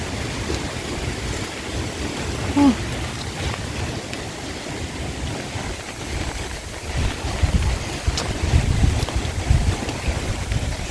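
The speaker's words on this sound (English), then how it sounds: "And now the breeze is blowing about 145 miles per hour." Hurricane Beryl winds near 145 mph roar as a steady, broadband rush with buffeting gusts and rumbling microphone wind noise throughout, swelling louder toward the end.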